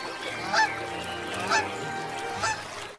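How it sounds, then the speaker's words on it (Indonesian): Goose honking three times at an even pace, loud and close, with no other voices. "wadidaw, ini angsa teman-teman"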